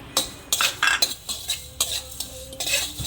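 Whole spices and mustard seeds dry roasted in a pan for chicken pickle, stirred with a spoon in a quick series of close scraping, clinking strokes with faint crackle and no talk.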